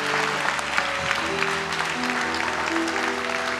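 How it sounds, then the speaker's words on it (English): A church congregation claps hands together during a service, steady dispersed clapping with sustained tones, likely music, underneath, moderately quiet and continuous. "give God a big hand clap this morning"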